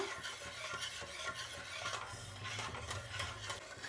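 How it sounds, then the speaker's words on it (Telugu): A spoon stirs jaggery syrup in a pan on the stove, scraping steadily against the metal in a continuous rhythm over a gentle bubbling sizzle. "పాకం తీసుకునేటప్పుడు ఇలా కలుపుతూనే ఉండాలండి, ఎక్కడ అలానే వదిలేకూడదు"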